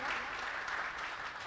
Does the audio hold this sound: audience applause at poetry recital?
yes